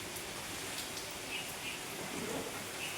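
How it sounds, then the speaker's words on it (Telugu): Heavy rain from Cyclone Montha falls as a steady, dense hiss with faint scattered patters, constant and even throughout, with no talking. "ఇంత పెద్ద వర్షంలో ఈ డెలివరీలు ఎలాగిస్తారో చూడాలి ఒకసారి"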